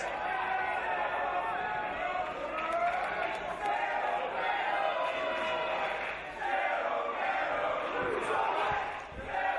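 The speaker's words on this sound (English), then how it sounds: "you can hear the crowd chanting Cerro at Pentagon" A wrestling crowd at a Revolution Pro Wrestling main event, Pentagon Jr versus Pete Dunne, keeps up a loud, steady roar of chanting and cheering, with a commentator talking over it throughout.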